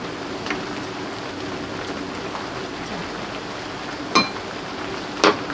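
Steady light rain falling outdoors in the countryside on a cold winter day, an even soft hiss throughout, broken by two sharp clinks of dishes near the end.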